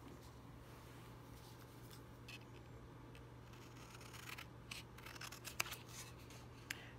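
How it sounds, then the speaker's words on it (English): Quiet snipping and crunching of long-handled scissors working through stiff cardstock, a few soft cuts followed by sharper clicks, over a low steady hum. "And now I'll cut along that line."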